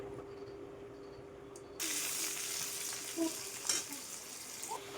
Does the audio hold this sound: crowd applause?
no